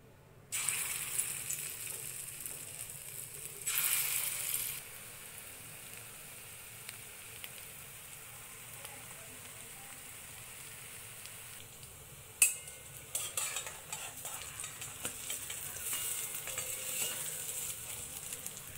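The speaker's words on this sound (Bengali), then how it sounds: "পকোড়াগুলি উল্টে পাল্টে ভালো করে ভেজে তুলে নেব।" Lentil pakoras (masoor dal bora) deep-frying in mustard oil, a faint steady bubbling sizzle with two louder bursts of hiss early on and a clink midway, close and without talk.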